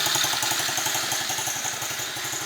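A small SSR dirt bike engine runs close by at a steady idle, with a rapid, even thumping pulse and no talk.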